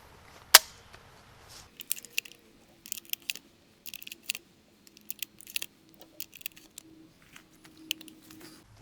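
Wax slugs being loaded into a gun's feed tube at home: a sharp snap, then a run of small, irregular metallic clicks and clacks, close and quiet, without talk.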